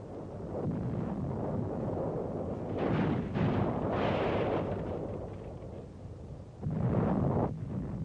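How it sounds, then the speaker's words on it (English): Heavy German artillery shelling a church in wartime 1944 Europe, mistaken for an Allied observation post: a continuous roar of blasts and rumbling booms, with louder bursts near the middle and toward the end, no voices. "A church, apparently taken for an Allied OP, comes under heavy Nazi artillery fire."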